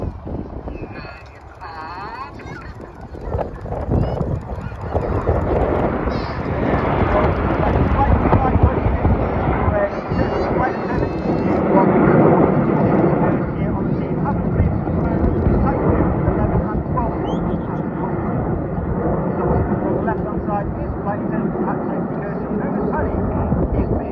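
Red Arrows jets flying a seven-ship formation display at an RAF Cosford airshow, a sustained loud roar that swells and fades as the formation turns, with a commentator talking over it throughout.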